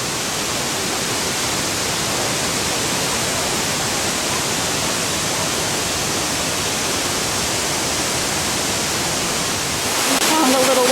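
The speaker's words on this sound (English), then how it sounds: "And there's this gorgeous pool that the water is running into." Spring water pours steadily into a natural pool on an Italian mountainside, a loud, continuous broadband rush that stays even throughout and swells slightly in the final second.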